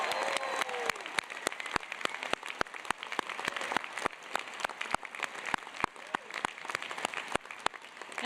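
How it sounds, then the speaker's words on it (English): Audience applause at a postgraduate commencement ceremony, a sustained crowd clapping with loud sharp individual claps punctuating the dense wash, held at steady volume. "please join me in giving one more round of applause for Pooja and Leah"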